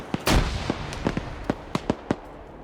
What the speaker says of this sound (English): Seen some grenades getting thrown out.